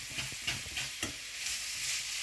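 Chicken frying and being stirred in a pan while cooking Chinese rice: a soft continuous sizzle punctuated by several scraping stir strokes, close and fairly quiet, with no talking.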